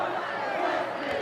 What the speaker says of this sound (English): Heard the crowd get a little excited.